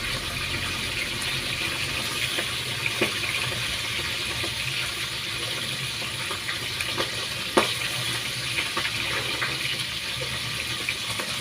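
Steady sizzling of tilapia frying in a pan, a continuous hiss with occasional small pops and clinks, no talking.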